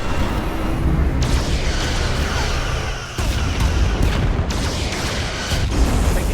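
A starship in Star Trek: Resurgence under heavy weapons fire, with dense, continuous booming impacts and rumbling blasts layered over one another, loud and unbroken apart from a brief dip.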